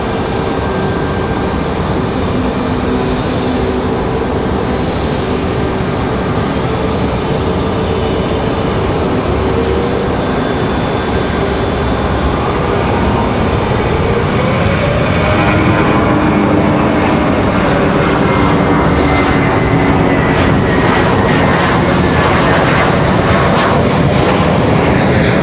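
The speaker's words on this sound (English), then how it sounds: "So here we go, this American A321, I'm sure headed back to Charlotte" An American Airlines A321 jet departs Raleigh-Durham International, its engine roar loud and steady throughout, with a rising whine and rumble building toward the end.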